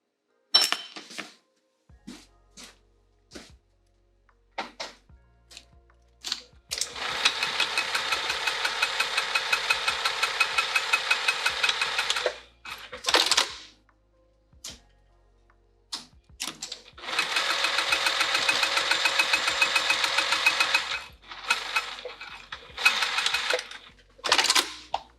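Two long, steady runs of a sewing machine top stitching blue fabric on a pouch, close and clear, separated by scattered short clicks and handling knocks in otherwise quiet surroundings.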